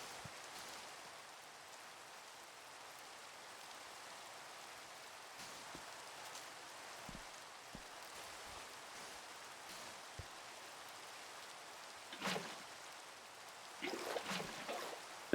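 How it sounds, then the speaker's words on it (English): Steady rain in the Minecraft video game, a constant soft hiss of falling drops with a few faint clicks and brief louder game sounds near the end. "it's raining"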